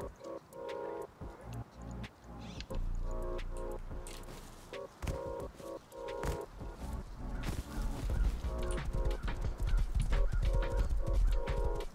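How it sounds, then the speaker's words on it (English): Horse hooves clip-clop steadily in a video game, a busy rhythmic clatter over game music and effects, growing louder and denser toward the end. "Get on a horse right here."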